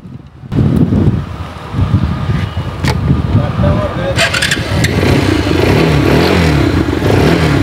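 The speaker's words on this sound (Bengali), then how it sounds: "এই বাইকটির সাউন্ড কন্ডিশনটাও আমরা আপনাদেরকে একটু শোনানোর চেষ্টা করতেছি" A motorcycle engine idles and revs with a rumbling, uneven roar, wind buffeting the microphone, a few clicks and a brief rising whine.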